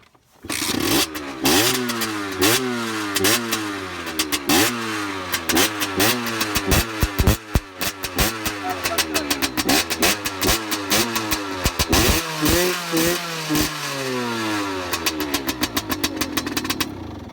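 A Rieju MRT Pro or Yamaha DT motorcycle engine idles close by and revs repeatedly, its pitch climbing and falling in quick throttle bursts, with a few sharp pops between.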